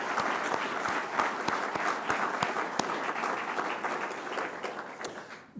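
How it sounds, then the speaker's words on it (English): A round of applause for the inductees at a Phi Kappa Phi induction ceremony, a dense, steady clapping from a seated crowd with distinct nearby claps, tapering off at the end. "I wonder if we could give a round of applause to the inductees."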